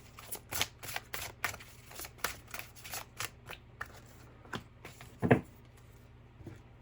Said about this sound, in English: shuffle for the tarot.